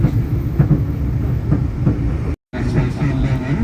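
A Jayabaya passenger train on the Malang–Surabaya line runs downhill toward Bangil under braking, giving a loud, steady rumble of wheels on rails with a faint clatter and one brief dropout near the middle.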